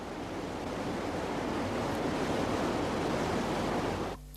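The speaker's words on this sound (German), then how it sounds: "Es gibt kleinere Wasserfälle, wie hier im Kvikkjokk" A small waterfall at Kvikkjokk in northern Sweden rushes in a steady, dense roar of falling water, loud and unbroken for about four seconds before cutting off, with no voices.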